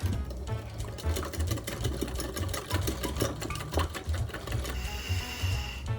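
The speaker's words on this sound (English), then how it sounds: "I'm just gonna whisk these together." Buttermilk, egg yolk and other wet pancake ingredients whisked in a bowl, with rapid, rhythmic close clicking and clattering strokes that run steadily throughout.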